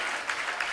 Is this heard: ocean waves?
no